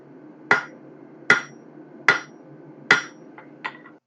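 Blacksmith's hammer striking hot metal at a forge while shaping a rose, five sharp ringing blows at a steady pace, the last one lighter, close and clear over a low background hum.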